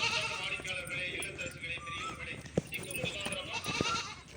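Goats bleating here and there while being herded out to graze near a lake, with people calling out and talking loudly over a busy outdoor background.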